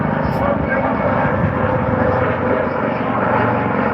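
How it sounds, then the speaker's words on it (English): A Coast Guard air rescue helicopter drones steadily overhead at an airshow, a dense, constant rotor and engine roar that stays loud throughout. "air rescue helicopter"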